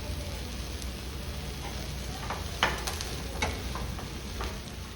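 An egg omelette fries in a pan with a steady, close sizzle and crackle, and occasional light scraping ticks from a utensil over the hiss.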